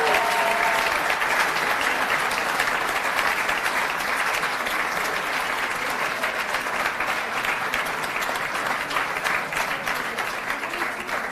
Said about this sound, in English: Let's give them a round of applause as they make their way